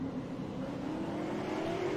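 Race cars restarting at Thompson Speedway, with a distant, steady engine drone that rises slowly in pitch as the cars accelerate, faint under the crowd ambience.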